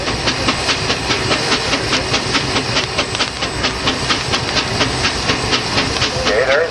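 Steam traction engine at a Rollag, Minnesota show, working under throttle against a torque-testing load: rapid, even chuffing exhaust beats with continuous steam hiss, loud and close, plus faint background voices.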